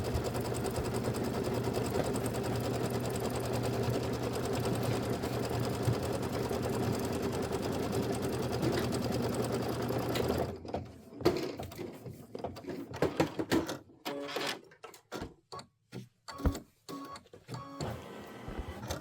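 Embroidery machine running an outline stitch across a Kimberbell Hello Sunshine pieced quilt block, a steady rapid mechanical hum for about ten seconds, then stopping and giving way to scattered handling clicks and knocks.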